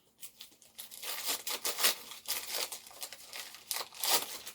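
Wrapping paper on a birthday present rips and crinkles in a run of bursts, close and fairly loud, with rustling between the tears and no talking.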